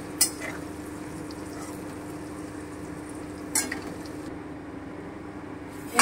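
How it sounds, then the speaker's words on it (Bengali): Paneer fries in hot oil in a pan, giving a steady, moderate sizzle with a few sharp clinks of utensil against the pan. "এই যে আমি পনিরগুলো সব ভেজে নিলাম।"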